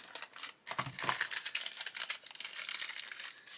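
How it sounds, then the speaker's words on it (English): A plastic bag holding a 1/24 Italeri Fiat 131 Abarth model kit is sliced open with a knife, giving close, crisp crinkling and rustling with a few sharp cuts and tugs, busy throughout, and no talking. "we'll grab our knife, and we'll cut this bag open."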